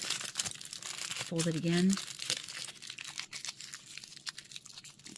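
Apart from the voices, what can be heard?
aluminium foil being folded and crumpled for miniature logs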